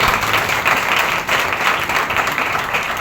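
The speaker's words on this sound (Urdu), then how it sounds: "چلو پھر اپنے سے تالیاں مار" A Sunday church service congregation claps for themselves, a loud, dense and continuous wash of many hands filling the room.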